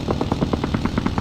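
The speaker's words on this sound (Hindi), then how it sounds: "ऊपर पहाड़ी से हमको गोलियां चलने की आवाज आती है" Rapid bursts of automatic gunfire in a video game clatter in an even rhythm from a hill above, about a dozen shots in quick succession, fairly close and uninterrupted.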